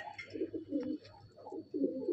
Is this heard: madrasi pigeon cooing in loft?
yes